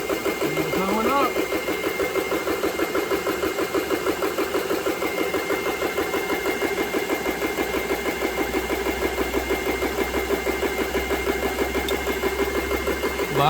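A GX CS3 air compressor runs steadily with a continuous mechanical drone and rhythmic pulsing, close and fairly loud, with a brief rising whine near the start.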